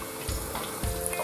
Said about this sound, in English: so We're going to put in our first batch. Be very careful with the oil.